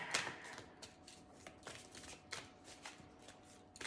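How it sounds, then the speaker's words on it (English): A tarot deck is shuffled for a reading, a run of quick riffling card bursts repeating at a steady pace, close and soft, with no speech. "I'd like to pull one more card just to end the reading."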